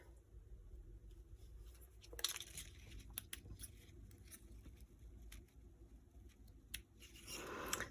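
Scissors snip through paper scribbles with soft, scattered cuts that come in short bursts against a quiet background.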